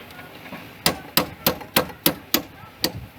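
Seven sharp metallic taps in a steady rhythm as a socket drives a plastic shifter bushing onto a Dodge SRT-4 shifter, each strike close and crisp with a short ring.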